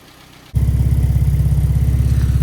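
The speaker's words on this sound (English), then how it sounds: "So this little standard 998 is all ready for a test drive." A standard 998 Mini Scamp engine starts up after near-silence and settles into a loud, steady idle with an even, rapid pulsing throb, close by and running alone.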